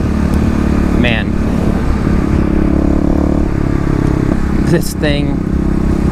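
A Kawasaki KLX351 EFI dirt bike ridden on loose gravel, its engine droning steadily and loudly up close with wind rush, while a rider talks over it.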